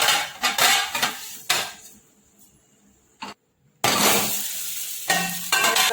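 A metal spatula scrapes and clatters in a cooking pan as semolina handvo is flipped, with loud clanks and rattles in short bursts, a brief quiet gap, then more scraping over faint sizzling.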